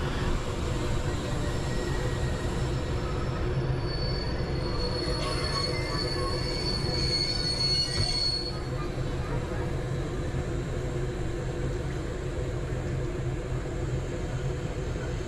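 Train wheels squeal at a station on the Budapest–Ljubljana–Zagreb rail route, a sustained high metallic whine over a constant rumble of the train, lasting throughout.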